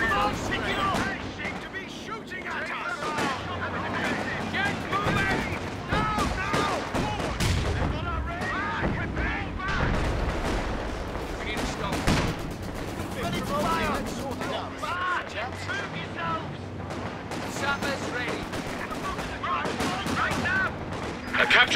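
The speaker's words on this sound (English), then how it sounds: "They seem to be shooting at us." Gunfire and artillery from a Company of Heroes 2 battle between Lowland infantry and Panzergrenadiers, with dense, continuous shots and booms under overlapping soldier voice lines throughout.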